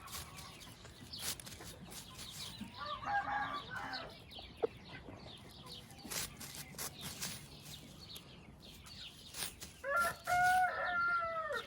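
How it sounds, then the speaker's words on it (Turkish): An Aseel rooster crows twice, a long ringing call early on and another near the end, amid scattered clucking and background noise on a rooster farm. "Evet esrarengiz ve meşhur horozumuz Çakır Bey"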